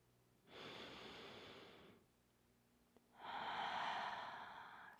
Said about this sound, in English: Take another inhale and exhale.